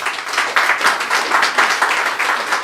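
A church congregation claps loudly and rhythmically in acclaim of Jesus of Nazareth, the steady beat of many hands filling the room without a voice on top.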